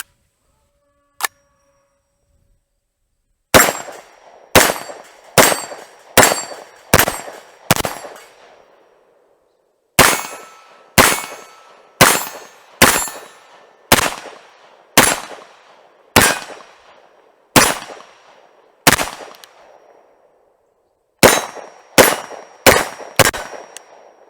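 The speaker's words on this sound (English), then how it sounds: "We're going to do some shooting on the different targets down there" Tommybuilt T7 gun firing at targets outdoors: one early single shot, then rapid bursts of loud, sharp reports in quick groups of about five or six, each with a short ringing tail and brief pauses between bursts.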